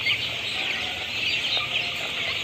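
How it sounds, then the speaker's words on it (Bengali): Broiler parent stock chickens crowd together at feeding time on a poultry farm, their dense, steady clucking and chatter forming a continuous flock noise with no voices over it. "চলেন ওই বড় মুরগিগুলা কেমন খায় আমরা একটু ভালো করে দেখে আসি।"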